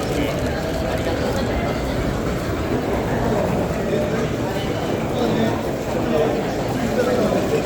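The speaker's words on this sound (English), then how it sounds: "It's a train station on a Friday night." Busy Japanese train station on a Friday night: a dense, steady crowd murmur with footsteps and station bustle, continuous at moderate loudness with no single standout event.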